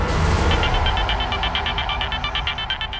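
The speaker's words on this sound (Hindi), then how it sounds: "अरे दामाद जी का फोन।" A telephone rings indoors in a household, a steady electronic ringtone of repeated pulsing beeps sounding clearly over a low room hum.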